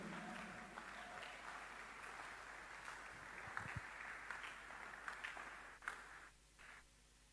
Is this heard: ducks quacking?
no